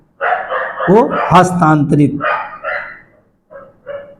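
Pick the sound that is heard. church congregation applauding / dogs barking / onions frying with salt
dogs barking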